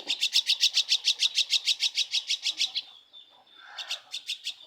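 A baby myna bird chirps shrilly while being hand-fed, in a fast even run of about fifteen sharp, close calls, then a brief pause, then a few more chirps.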